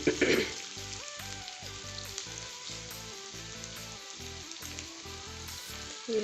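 Potatoes sautéing in a little oil in a pan, giving a steady, even sizzle throughout with a faint rhythmic hum underneath, no voices.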